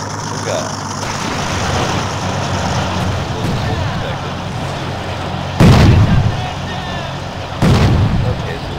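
Artillery in the Blitzkrieg II video game rumbles on continuously under a dense battle din, then two heavy explosions boom loudly about two seconds apart near the end.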